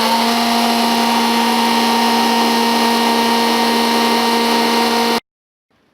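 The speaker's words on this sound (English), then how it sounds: "I'm just going to take a hand blender and then blend it to create the foam on top." A loud, steady electric whir of a hand blender frothing milk runs continuously for about five seconds, then cuts off abruptly into silence.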